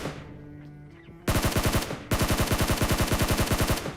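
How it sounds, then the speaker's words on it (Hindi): In PUBG Mobile, two bursts of rapid automatic gunfire ring out close and loud, the first short and the second longer with evenly spaced shots, after a quiet moment of faint game ambience. "अब देखो यहाँ पे फायरिंग का साउंड हुआ ना"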